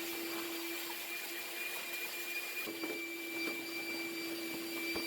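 A vacuum cleaner runs steadily with a high whine and hum while cleaning out a clothes dryer chute, heard from a distance, with a few faint clunks and knocks along the way.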